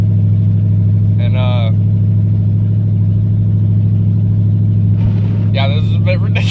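Inside a 2005 Dodge Magnum R/T with Scat Pack headers cruising at highway speed, a loud steady exhaust drone fills the cabin while someone talks briefly over it.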